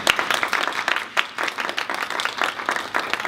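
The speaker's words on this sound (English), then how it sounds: "Can we give them all a round of applause?" Audience applause at a health education event about fibroids, a dense run of many hands clapping at moderate level, steady with small surges, with no talking over it.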